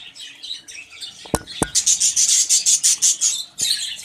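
Budgies in a colony breeding box give a rapid series of high, rhythmic chirps, close and fairly loud, with a couple of sharp knocks or rubbing sounds in between and no talking.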